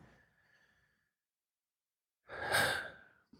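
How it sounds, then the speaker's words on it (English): A person takes a big deep breath in a calm, relaxation-style setting: a faint inhale first, then a pause, then a loud, airy exhale close to the microphone with no words spoken. "Take a nice big deep breath."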